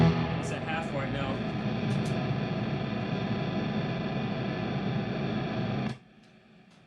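A heavily distorted, saturated electric guitar tone through a Brit-Tone PowerDrive overdrive pedal plays loudly and steadily, then cuts off abruptly near the end, leaving a low hum.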